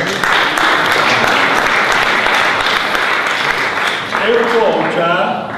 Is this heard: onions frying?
no